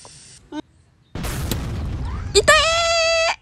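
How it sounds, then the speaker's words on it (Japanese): A cannon booms in the Roblox ship-battle game, a sharp blast with a crackling rumble that lasts about a second, followed by bright electronic game tones and voices talking nearby. "大砲もあるしね。"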